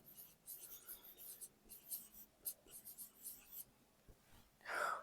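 Writing on a board during a Hindi-to-English translation lesson: quiet, scratchy strokes in short repeated bursts, with a brief louder scrape at the end.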